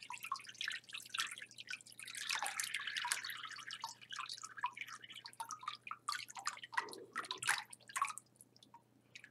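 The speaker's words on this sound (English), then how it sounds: "Let the water drain." Water drains and drips from a handmade paper screen lifted from a vat with botanicals, a quiet, continuous patter of trickles and drops close by, thinning toward the end.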